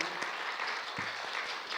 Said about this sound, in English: give a big clap to Sister Sheshi